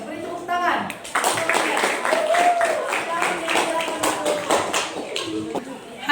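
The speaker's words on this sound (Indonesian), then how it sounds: "give applause to your friend. Beri tepuk tangan." Classroom applause: a group of students clapping in a quick, dense patter for several seconds, with a teacher's voice and other voices mixed in over the clapping.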